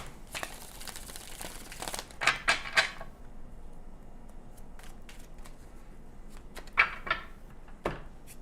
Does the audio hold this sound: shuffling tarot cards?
yes